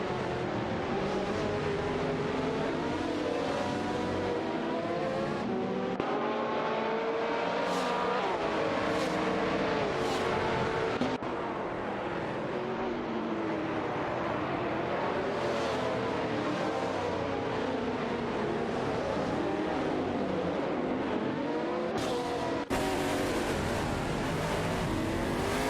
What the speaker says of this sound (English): a tight battle is brewing between Gary No Name in the Panos Abruzzi GT2 and Sirarimbot in the Seat Cupra GT